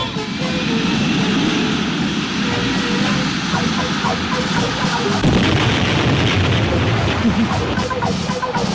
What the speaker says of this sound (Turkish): uçaklar geliyor